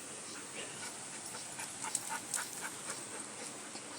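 A fat dog pants close by in quick, rhythmic breaths, with a few soft whimpering puffs over a steady outdoor background hiss, and no voices.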